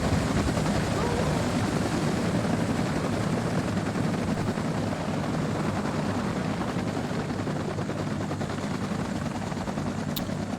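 Helicopters land amid a battle in the WARNO strategy video game, a continuous dense rotor roar mixed with distant machine-gun fire, loud and unbroken throughout.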